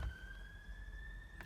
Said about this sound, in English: Ignore the siren, I can't do much about that.